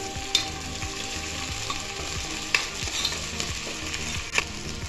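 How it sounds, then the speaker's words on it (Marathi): Onion with garlic ginger paste sautéing in a pan for veg pulao makes a dense, constant sizzle, with sharp spoon scrapes and taps at intervals and no talk. "आता आपण लसूण अद्रक पेस्ट टाकून घेणार आहोत। थोडंसं परतायचं आणखी।"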